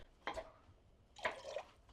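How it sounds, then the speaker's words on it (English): Vinegar poured onto freshly cut potatoes for homemade fries: two short, quiet splashing pours about a second apart, close by, with no talk. "The vinegar has been poured"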